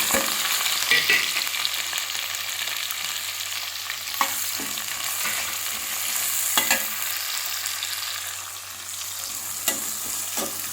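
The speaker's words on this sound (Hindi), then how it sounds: "चलो अब इसमें डाल देंगे प्याज।" Onions fry in a pan for crispy okra. A steady, loud sizzle runs throughout, broken by occasional scrapes and taps of a stirring spoon.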